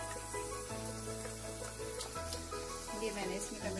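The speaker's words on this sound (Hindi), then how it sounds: "अब मैं इसमें ये टमाटो प्यूरे डाल देती हूँ" Beans and potatoes sizzle steadily in a pan as tomato puree is added, with a continuous, close frying hiss and a few faint stirring sounds.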